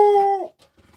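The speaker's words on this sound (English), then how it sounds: "say someone knocks on our front door, she's gonna bark." A dog gives one loud, close, tonal yelp or howl-like bark that holds for about half a second and then cuts off, followed by a few faint soft sounds.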